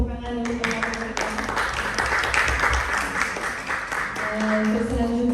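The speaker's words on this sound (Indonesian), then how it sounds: "Mari kita beri tepuk tangan untuk teman-teman kita." Audience at a hospital staff orientation seminar clapping steadily for about five seconds, a moderate roomful of hands, with music tones and faint voices running underneath.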